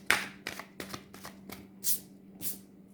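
Tarot and oracle cards being shuffled by hand, a run of quick riffling bursts and soft slaps close to the microphone, repeating about every half second with no talking.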